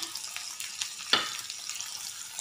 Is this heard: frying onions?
yes